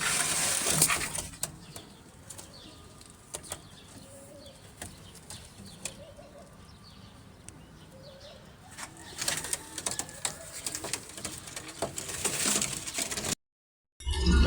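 Pigeons and squabs at a loft with fancy breeds including Australian birds: wings flap in short bursts, faint and near, against a soft room background.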